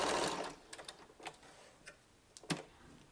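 A sewing machine stitches quilt blocks together with a 1/4 inch seam, starting with a brief whirring run and then giving a few scattered clicks and taps, close and fairly quiet.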